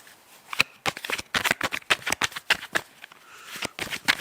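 Tarot cards are shuffled by hand in a steady run of sharp, crisp riffling slaps and flicks, close and fairly loud, with no talking.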